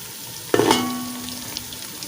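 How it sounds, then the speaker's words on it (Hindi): Beef kebabs hit a hot frying pan with a sudden loud sizzle that flares up, then settles into a softer, fading crackle close by with no talking. "अभी थोड़ी देर इनको करते हैं फ्राई"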